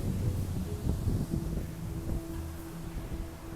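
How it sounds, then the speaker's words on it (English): Gusty wind buffets the microphone in a steady low roar outdoors near a genset room at Amanja Semi D Suites, with no voices. "It's quite windy today, seems like going to rain."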